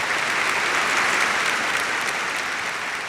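Sustained, dense applause from a large hall audience at the October 2017 19th Chinese Communist Party congress, steady and loud throughout with no break.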